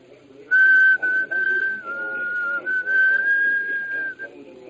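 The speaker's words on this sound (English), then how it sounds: "someone began a low, almost tuneless whistle" A low, almost tuneless human whistle in a radio drama, one long steady tone lasting several seconds, fairly close, with a faint voice murmuring beneath it.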